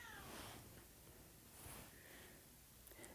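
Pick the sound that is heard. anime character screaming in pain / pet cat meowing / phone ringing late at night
pet cat meowing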